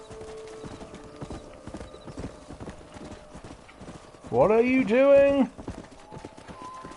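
A horse in the video game Red Dead Redemption clip-clops steadily, its hooves close and rhythmic, with a loud whinny breaking through midway and someone talking over it.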